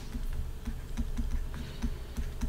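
Steady typing on a computer keyboard, a quick run of close, even key clicks continuing without pause and no voices over it.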